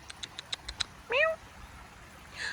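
A cat at a hiking hostel along the Appalachian Trail gives a run of short, quiet meows, then one longer, louder, rising meow, followed by a faint further call; the cat sounds close by.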